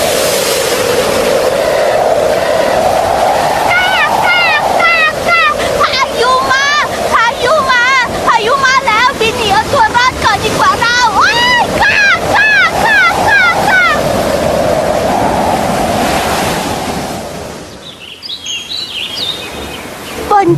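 A stormy sea with surf and wind rushes steadily and loudly, while bursts of bird chirps and calls sit on top through the middle before the roar briefly drops away near the end.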